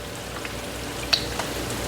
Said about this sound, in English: I'm going to add the shrimp to the frying pan.